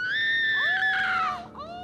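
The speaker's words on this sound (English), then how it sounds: "She screams" A woman lets out one loud, high, sustained scream that wavers and falls away after about a second and a half, set in a dramatized horror scene with wolves filling a castle courtyard.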